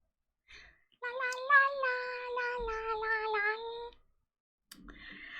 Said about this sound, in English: Petting my cat, Vicky Wiki.